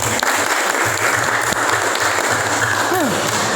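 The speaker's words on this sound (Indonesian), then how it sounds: "tepuk tangan lagi buat kelompok 6" Applause for a student group in a classroom presentation session, a steady broadband wash of many hands clapping throughout, with a brief voice near the end.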